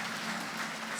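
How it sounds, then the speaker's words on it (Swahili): An audience at a Christian church gathering claps in a steady, dense wash of applause that stays at an even level for the full second, with no voices standing out. "Wow, makofi jamani."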